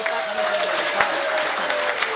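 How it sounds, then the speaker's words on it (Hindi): An audience claps steadily at a Haryanvi comic poetry recital, a dense, continuous burst of applause with no voices standing out. "बजाओ ताली हाथ उठाकर एक बार जोरदार।"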